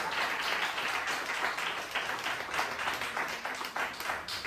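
Congregation clapping in a church worship service to glorify God, a steady dense patter of many hands filling the room, moderately loud and continuous with no talk over it.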